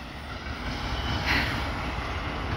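A passenger train rolls past on the line near Pilibhit and Bareilly City, a steady low rumble of wheels and wagons that swells slightly midway, heard alone without talk.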